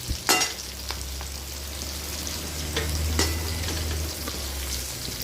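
Eggplant and green chilies sauté in a pan for chutney, giving a steady close sizzle with a few sharp stirring scrapes near the start and middle, with no voices.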